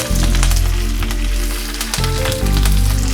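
Hing added to hot oil with spluttering mustard seeds and curry leaves, a loud close sizzle and crackle over a low steady hum, no talk.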